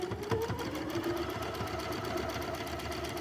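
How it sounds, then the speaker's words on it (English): A sewing machine runs steadily while stitching quilt squares together, a fast even mechanical whir with rapid needle ticks, fairly quiet and close, no talking over it. "going to your sewing machine and sewing them all together"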